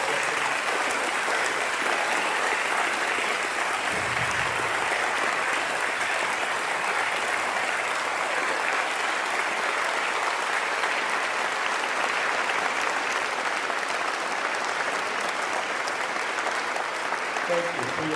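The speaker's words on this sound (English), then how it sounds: "Please give them a big round of applause." Sustained audience applause honoring veterans standing at a Veterans Day event, a dense even wash of clapping from a large crowd that holds steady throughout with no talk over it.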